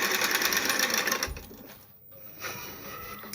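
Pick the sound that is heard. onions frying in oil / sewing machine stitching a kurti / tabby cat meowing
sewing machine stitching a kurti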